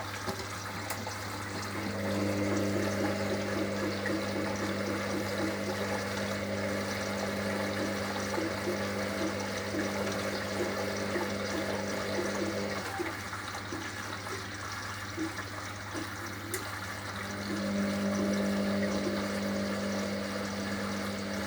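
A Hoover HLW585DC washing machine fills with water for its final rinse, a steady rushing inflow over a low hum that fades around the middle and then resumes, with no talking.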